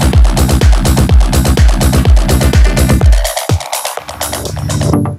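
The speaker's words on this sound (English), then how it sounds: "It's a hardcore house track." A pounding hardcore acid house track with a fast, regular kick and dense buzzing synths, then dropping into a sparser break near the end.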